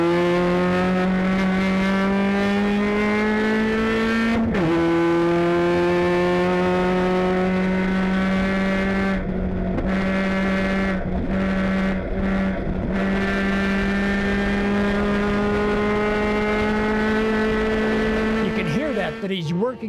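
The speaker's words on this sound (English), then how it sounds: "he's working the throttle in the corner on and off" Mazda MX5 race cars at Road America in a 2010 Mazda MX5 Cup race, a loud, close, high-revving engine drone. The throttle comes on and off through a corner, with the note dipping briefly several times.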